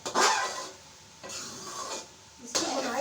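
Carrot halwa being roasted in ghee with cardamom, stirred in the pan in three rasping, scraping sweeps of a spoon, close and loud with no talking.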